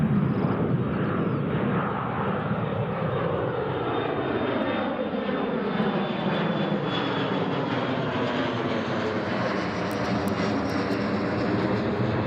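An airplane on the NDB approach to runway 25 at Newcastle International Airport: a steady, loud engine roar with a slowly shifting, Doppler-like whine that holds for the whole stretch, with no talking.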